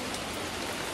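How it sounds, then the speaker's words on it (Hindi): Rain falls outside a village house as a steady, even hiss of drops with no pauses, soft and continuous with no voices. "बारिश हो रही है।"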